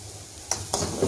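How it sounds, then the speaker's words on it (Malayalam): A spoon stirs black pepper rasam ingredients with salt in a pot, giving a few faint, brief scraping taps over a quiet background. "ഇതെല്ലാം ചേർത്ത് ഞാനൊന്ന് ഇളക്കി കൊടുക്കുകയാണ്"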